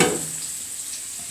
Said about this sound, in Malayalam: ഇപ്പോഴത്തെ മീൻ പൊരിക്കാനിട്ടുണ്ട്